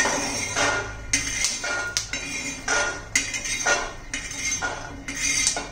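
A metal spoon scrapes and clinks against a pan as roasted peanuts are scooped out during masale vangi preparation. Sharp, close knocks repeat irregularly over a low background hiss.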